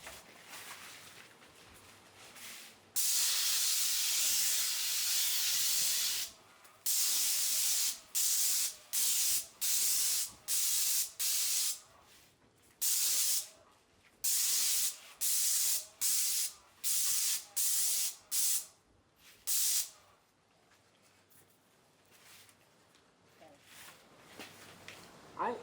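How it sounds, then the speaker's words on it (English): Patina solution sprays onto metal pieces near a torch in sharp, loud hissing bursts, first one long spray and then a rapid series of short repeated puffs, with quieter workshop room tone between them. "Watch how close or far away we are with the torch when we spray on this"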